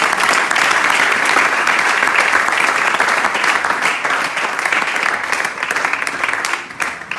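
A church congregation applauds during a service, a dense, sustained wash of many hands clapping at once that holds steady before thinning slightly toward the end.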